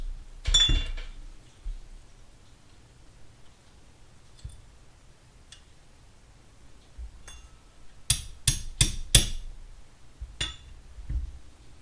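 Sharp metallic taps of a hammer on a thin punch ring out while working on a Honda XR100R carburetor, a single strike early on, then a quick burst of four or five clinks close together, with scattered lighter ticks.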